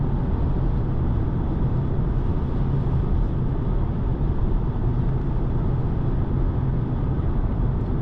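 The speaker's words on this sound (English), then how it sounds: "One thing what I can hear is like a wind coming from the windows" Steady broadband wind roar and road rumble fill the cabin of a 2025 BMW M235 Gran Coupe on 19-inch wheels cruising at higher speed, constant and loud from start to end with no talking.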